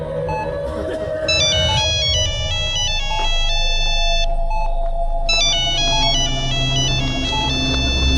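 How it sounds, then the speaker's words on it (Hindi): A phone ringtone plays a bright repeating melody, ringing on continuously over a low rumble of passing trucks and cars, with a short pause midway. "फोन लगातार रिंग हो रहा है।"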